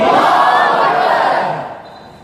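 A large crowd roars the takbir response to a slogan at a religious gathering, one loud massed shout that holds and then fades away over about two seconds.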